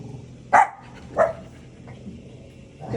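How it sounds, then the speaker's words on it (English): Rescue dogs inside a house give two sharp, loud barks about half a second apart, close by, then a softer yip at the end, over a low background hum. "So these are a couple of her rescue dogs."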